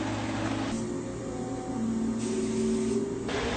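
A steady, broad hiss from a spray gun applying lacquer to an electric violin runs throughout, with a low mechanical hum underneath and slight swells in intensity.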